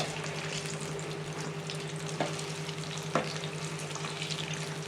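Mirchi bajji, chili fritters, sizzle steadily in hot oil with a dense continuous crackle and a couple of brief clinks from stirring, close and alone.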